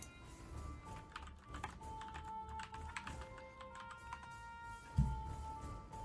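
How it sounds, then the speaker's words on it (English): Computer keyboard typing runs throughout as quiet, irregular key clicks in a steady stream, with a single louder thump near the end and no one speaking. "while he's typing that"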